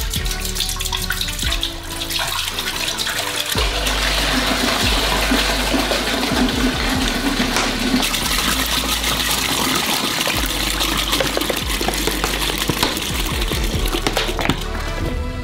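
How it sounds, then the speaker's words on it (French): Milk pours from opened bottles into a large pot, a loud, steady gushing splash that runs almost without pause for several seconds, close and continuous, with a brief dip near the start. "On ouvre les bouteilles et on verse dans un grand pot."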